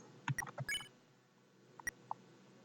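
Phone dialing beeps in the Undertale video game: a few short electronic bleeps in quick succession, then a pause and two or three more isolated beeps over a faint hiss.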